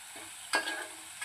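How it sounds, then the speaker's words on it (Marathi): Onion frying golden in a pan for egg biryani, a soft steady sizzle with one brief stir or scrape, close and short with no voices. "अशा पद्धतीने छान गोल्डन फ्राय आपला कांदा झालेला आहे"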